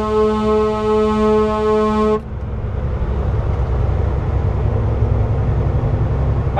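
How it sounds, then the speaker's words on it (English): A truck on a highway, a steady horn-like tone for about two seconds, then the broad rumble and roar of road traffic continuing loudly from the cab. "You see this truck I'm cruising on past right here?"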